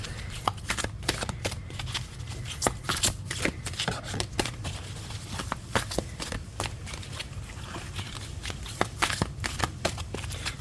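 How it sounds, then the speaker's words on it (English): Tarot cards are shuffled by hand in a steady run of quick, crisp riffling snaps and taps, close and continuous for about ten seconds, with no talking. "since the shuffling is taking a minute"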